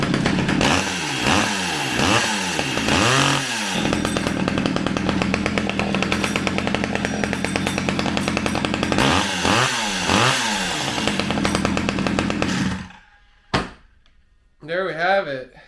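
Stihl 010AV chainsaw running after a coil and piston ring repair, loud and close, with rhythmic revving bursts over a steady buzzing idle for about thirteen seconds before cutting off, then a short restart burst near the end.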